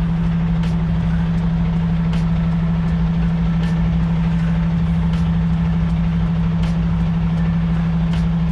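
A truck towing a trailer backs up slowly, its steady low engine drone and idle rumble continuing alone and fairly loud, with faint periodic ticks above it.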